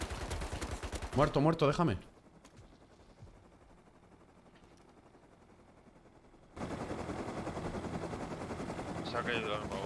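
Rapid automatic gunfire from the video game Rust bursts out loudly, then goes quiet, then returns as a dense, sustained volley. Players talk over the shooting.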